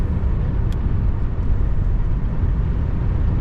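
A 1977 Buick Electra Limited two-door cruising at 55 mph, giving a steady, continuous low road and engine rumble with wind noise from inside the cabin, with no talking.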